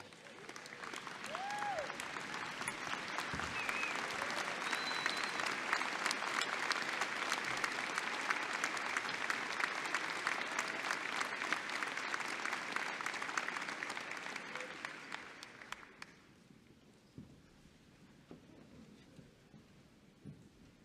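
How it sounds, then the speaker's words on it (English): Loud, sustained standing applause from a large university commencement crowd, dense clapping for about fifteen seconds before fading to scattered claps and quiet room noise. "I would suggest 266 years deserves a standing round of applause."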